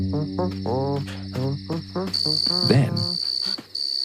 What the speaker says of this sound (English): he heard something. A cricket.